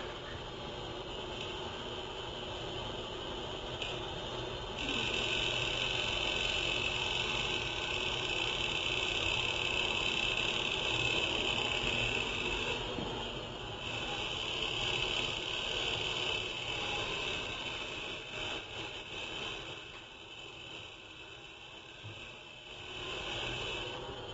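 Continuous hard drive activity: a steady whirring hum overlaid with a high, fluttering whine and busy seeking chatter, fairly loud and with no voices.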